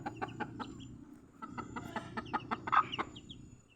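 Several chickens cluck in repeated short bursts at a small backyard breeding coop, with a steady low hum of other birds underneath and no talking.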